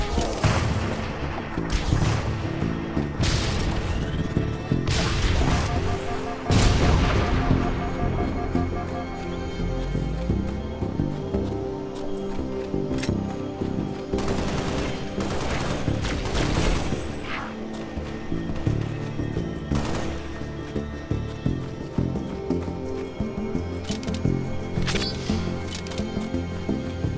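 Heavy gunfire and explosions from the video game Halo Spartan Strike crack and boom in a dense, irregular barrage over a steady battle din, loud and close throughout.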